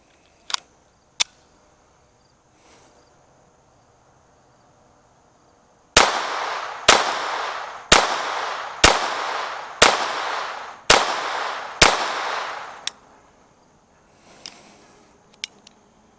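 A pistol fitted with an Advantage Arms conversion fires CCI Mini-Mag rounds, giving seven loud sharp shots in an even rapid string, preceded and followed by a few lighter metallic clicks and handling knocks.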